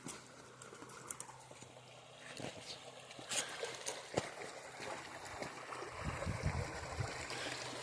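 Water trickles and patters steadily over stones, a small stream flowing close by with some rustling and movement mixed in.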